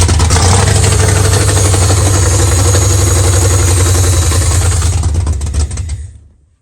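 A Ford Mustang II Cobra II engine runs loud and close at a rough, throbbing idle, then shuts off and fades to silence near the end.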